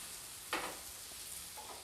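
Okra frying in a small amount of oil in a pan for achari bhindi fry, a steady low sizzle with one louder stir or scrape near the start, faint and alone with no talk.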